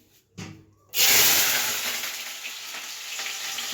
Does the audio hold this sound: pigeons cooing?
no